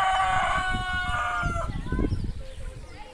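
A goose is chased around a village yard in Israel, giving loud, harsh honking calls over scuffling and movement while people talk nearby.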